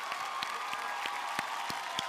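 An audience on the Bigg Boss Agnipariksha reality-show set claps in a steady, regular rhythm, each clap soft and somewhat distant, repeating about every third of a second.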